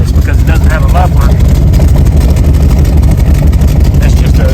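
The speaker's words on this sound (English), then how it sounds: "you can hear that this thing kind of sounds ratty. It's because it doesn't have a muffler." An old Chevy Nova with no muffler runs loud and ratty, a steady rough low engine rumble filling the whole stretch, with people talking faintly over it.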